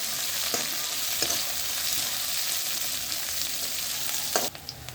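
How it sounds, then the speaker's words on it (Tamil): Fennel seeds, onion and green chili fry in an oily pan for a banana-flower kootu, giving a steady close sizzle with a few brief stirring scrapes. "சோம்பு, வெங்காயம், பச்சை மிளகாய்"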